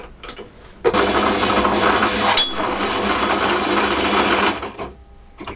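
A power drill whirs steadily for about four seconds at close range, with faint clicks before and after.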